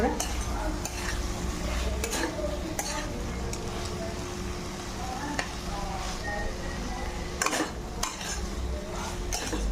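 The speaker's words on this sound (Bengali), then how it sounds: "এবার আলুর বড়িটা কেজি মশলার সঙ্গে কষে নেবো" Potatoes and bori stir-fried with spices in a pan, a steady close sizzle with scraping stirs and occasional clinks of a utensil against the pan throughout.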